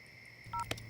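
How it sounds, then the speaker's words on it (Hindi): Phone keypad tones sound as a number is dialed in a Hindi-dubbed film scene, two or three short electronic beeps in quick succession over a faint hum. "तुम चिंटू को फोन लगाओ"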